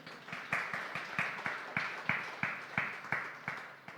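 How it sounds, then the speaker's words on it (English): Audience applause for a panel discussion on the state of democracy, a steady run of claps from a room full of people, moderately loud and even in rhythm for the whole stretch with no talking over it. "You can applaud."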